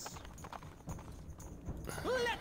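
Horses galloping in the video game Stronghold HD: a steady clip-clop of hooves runs through the clip, with a brief whinny near the end and voices talking over it.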